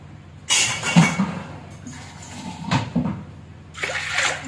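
Water poured into a cooking pot while cooking green gram and pumpkin curry, coming as a few gushing, splashing bursts separated by brief pauses, fairly close and moderately loud.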